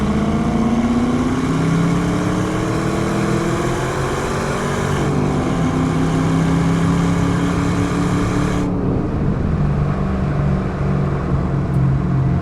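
A 2002 Pontiac Firehawk with its LS1 V8 and automatic transmission accelerates hard on a test drive, engine note climbing through steady rising harmonics with a shift near the middle, loud and continuous with no talk.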